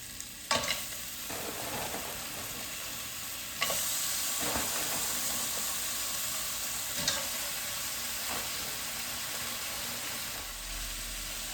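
Strips of bell pepper fry and sizzle in a pan, with a steady hiss running throughout and sharp scrapes and clacks from stirring at intervals. No talk.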